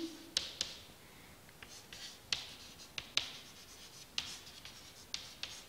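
Pen writing on paper while prime factors of numbers are noted down, with quick scratchy strokes and small taps coming in short bursts, close and quiet, with no one talking.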